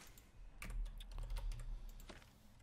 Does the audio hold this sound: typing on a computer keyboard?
yes